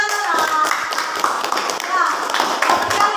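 Group applause in an Indonesian classroom, many hands clapping steadily and fairly loudly throughout, with voices mixed in.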